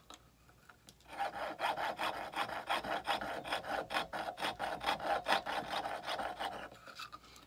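A piercing saw cuts out a wooden spoon silhouette, giving steady, rhythmic rasping strokes close by, about a dozen back-and-forth pulls in an even cadence with no talking.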